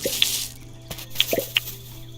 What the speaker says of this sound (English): Let's go water the plants.